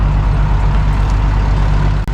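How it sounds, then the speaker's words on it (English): Heavy trucks idle at a truck stop, a loud, steady low engine rumble close by with no talking, ending in a short sharp clunk. "These trucks are a little scary at the truck stop, aren't they?"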